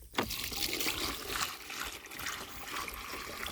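Water pours steadily from a hose onto cucumber plants in a garden, a continuous close splashing trickle with no speech.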